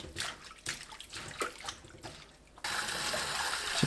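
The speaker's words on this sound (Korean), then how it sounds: "양배추를 씻어주세요." Water sloshing and splashing as cabbage soaked in vinegar water is washed by hand, in irregular bursts that change to a steady rushing stream near the end; fairly close but quiet.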